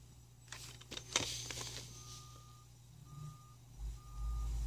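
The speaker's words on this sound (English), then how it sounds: "I think a trash truck came or whatever." A trash truck reversing sounds three evenly spaced, steady electronic beeps over low engine rumble, preceded by a few sharp clatters and followed by a deep rising engine roar near the end.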